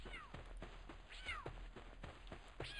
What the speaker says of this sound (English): Who you meowing at?